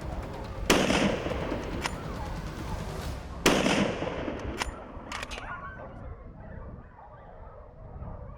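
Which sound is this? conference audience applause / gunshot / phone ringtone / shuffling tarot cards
gunshot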